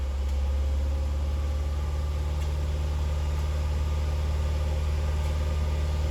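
A Saturn Vue engine runs close by with a steady, even drone and low rumble, holding a fairly constant pitch with no clear climb in revs.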